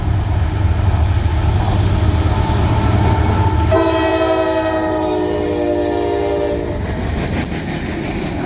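A loud train horn sounds in long sustained blasts over the heavy rumble and clatter of a passing freight train bound for Montreal, including an argon tank car.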